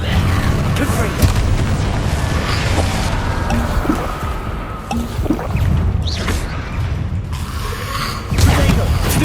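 A Confringo spell explosion in Hogwarts Legacy sounds as a loud, close fiery boom over dense game ambience, with other spell effects and a voice heard around it.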